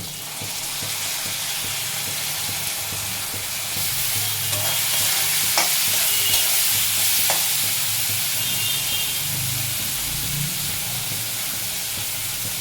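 A paste of black and white mustard seeds ground with green chilies fries in a wok, giving a dense, steady sizzle that swells louder partway through, with scattered pops and faint scraping from stirring.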